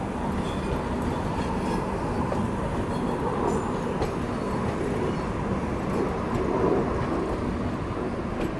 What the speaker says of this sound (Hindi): ये तो चंडीगढ़ अजमेर वंदे भारत जो है वो लग रही है मुझे।